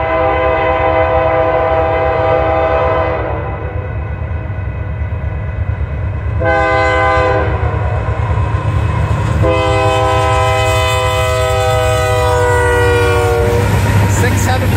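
Union Pacific outbound manifest freight train, locomotive 6748, passing the Val Vista Drive grade crossing: loud rumble and rail clatter throughout, with long blasts of the multi-tone air horn sounding repeatedly over the passing cars.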